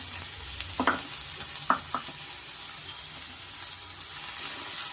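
Onions with curry leaves frying in oil for tomato egg rice, a steady close sizzle and crackle broken by a few short scraping stirs of a spoon in the pan, no voices.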